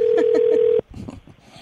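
A telephone gives a steady electronic tone for under a second that cuts off abruptly, followed by faint muffled handling noises on the line.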